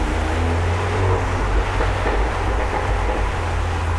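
Lohen-tuned JCW Mini Roadster accelerating hard through a tunnel, a loud continuous low exhaust roar that booms and reverberates off the walls for the whole stretch, with no voices over it.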